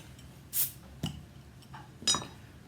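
A bottle of St-Feuillien Cuvée de Noël Christmas beer being opened, with a sharp hiss of released pressure, a click, then a louder fizzing burst as the beer gushes over, set against a quiet room.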